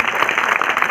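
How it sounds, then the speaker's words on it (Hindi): A crowd at a public gathering claps in a thick, continuous burst of applause, loud and even for the whole second. "सहमत हो तो तालियों की गड़गड़ाहट करें"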